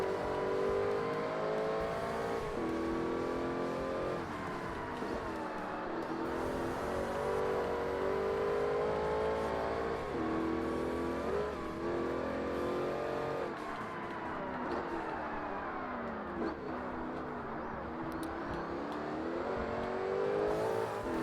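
Race car engines in Forza Motorsport roar steadily throughout a video-game race, with an opponent's car close behind; gear changes and pitch sweeps rise and fall with no one talking.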